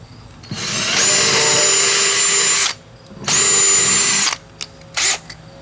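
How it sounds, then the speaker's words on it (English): A power drill pre-drilling holes in decking boards whines in two long bursts followed by a couple of quick short ones, loud and close, with no talking. "You're going to want to pre-drill the holes at the end of your boards."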